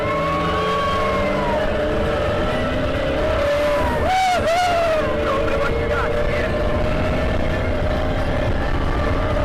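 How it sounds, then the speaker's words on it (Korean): Race cars on the Disney Cars Land racing ride speed past with a loud, continuous rumble and a swelling whoosh midway, with speech mixed in. "이렇게 옆에 차까지 오면 같이 레이싱을 합니다."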